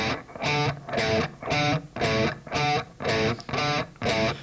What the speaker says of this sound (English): Now that's the sound of a fourth.